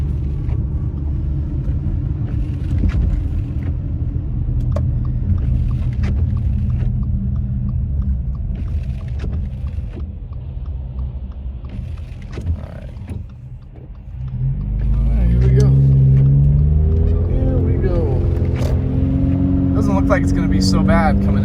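Car driving along a mountain road near a village in stormy weather, a continuous low road and engine rumble throughout, growing louder and fuller partway through, with people talking inside the vehicle.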